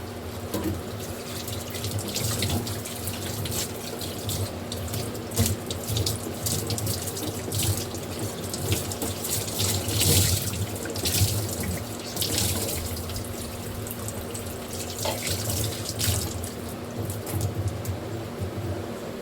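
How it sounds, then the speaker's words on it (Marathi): Water runs steadily from a tap into a pot, a continuous splashing rush with faint clinks, close and fairly loud, with no voices. "माठ भरून ठेवायचं पाण्याचं"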